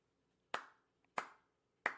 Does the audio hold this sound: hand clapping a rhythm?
yes